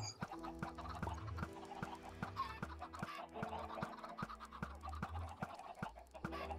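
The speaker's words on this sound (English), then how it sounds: "This is gonna give me a whole lot of chickens" Crowded Minecraft chickens crammed together in a farm cluck continuously in overlapping, rapid bursts, moderately loud, with faint scratchy clicks and no talk.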